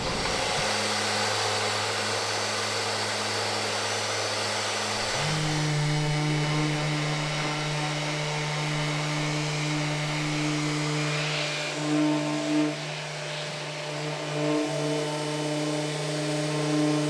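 A power sander whines steadily and close while sanding a Craftsman tool chest case to 180 grit, its pitch shifting partway through as the load changes, with no speech.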